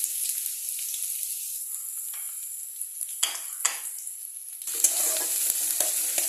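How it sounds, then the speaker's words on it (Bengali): Chopped onion dropped into hot oil with bay leaf, frying and sizzling steadily in a pan for a curry of green jackfruit, with stirring scrapes, louder bursts partway through, no voices. "এরপরে দেবো আমি পেঁয়াজ কুচি।"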